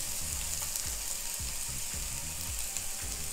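Diced onions fry in hot oil in a skillet, giving a steady, close, dense sizzle with soft low knocks recurring underneath throughout.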